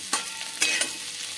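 Shahi paneer gravy stirred in a pan, a short burst of spoon scraping and soft sizzling with a couple of louder strokes, close and alone.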